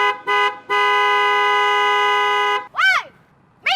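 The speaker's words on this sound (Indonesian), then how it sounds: "Sekarang kamu kasih klakson yang panjang banget" Two short car horn toots, then one long sustained honk lasting about two seconds, loud and close, followed by a couple of warbling, siren-like horn bursts.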